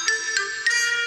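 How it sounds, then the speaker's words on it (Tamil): Phone ringtone ringing in a cartoon household, a steady bright electronic melody with short repeating pulses, heard alone without talk. "கெனிச்சி, உனக்கு யுமிகோ ஃபோன் பண்ணிருக்கா, சீக்கிரம் வா."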